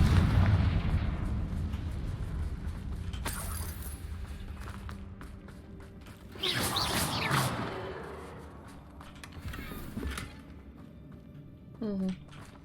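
A Confringo fire spell in the game Hogwarts Legacy bursts into several rumbling explosions, the loudest surging in the middle of a steady clamor of combat noise, with speech heard throughout.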